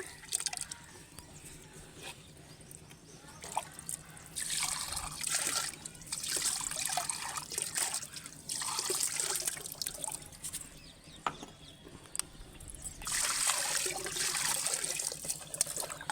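Oil is poured into water to make an egg-oil plant spray, trickling and splashing into a container in several bursts, with pauses between pours and faint drips, fairly close.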